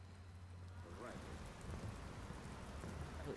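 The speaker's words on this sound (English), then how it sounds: "Walking around, they're like, oh, it's raining." Steady city rain in Watch Dogs patters as a soft, even hiss that thickens partway through, with a voice faintly present under the downpour.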